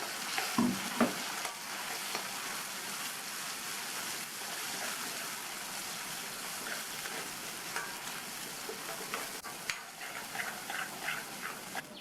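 Chutney sizzling in a frying pan with a spoon scraping and stirring, irregular clinks and scrapes over a constant hiss, no talking.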